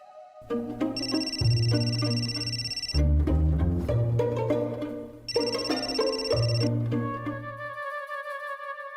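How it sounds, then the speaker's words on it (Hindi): A melodic phone ringtone plays loudly in repeating bursts, bright electronic tones over a low accompaniment, then cuts off near the end. "किसका फोन है बेटा?"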